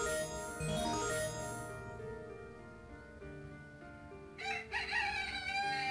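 A rooster crows in the Titanic Mystery video game on the Nintendo DS, a drawn-out call over game music, followed by a second, shorter burst near the end.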